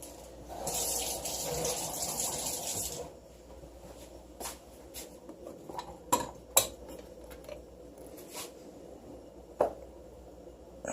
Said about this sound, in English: Let's try putting some water on this.